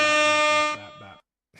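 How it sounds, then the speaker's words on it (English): Loud air horn blast from a soundboard deck, a sustained harmonic honk lasting under a second that breaks into shorter stuttering bursts before cutting off, followed by a brief faint noise. "I didn't do the air horn justice at the beginning, so I'm gonna let that sound fly again."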